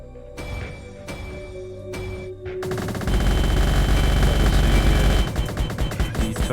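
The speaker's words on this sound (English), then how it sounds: "The turrets have a different sound, it's sort of like a heavier sort of bullet sound compared to the units" Gunfire from a video game's turrets and units: a few separate bursts of bullet shots, then a dense, loud, continuous barrage of heavier firing with booming low rumble, with no voices.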